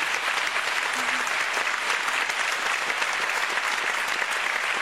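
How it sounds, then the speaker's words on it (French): A television studio audience applauds in a thick, even wash of clapping that holds at constant loudness from start to finish. "Vous pouvez les applaudir, monsieur."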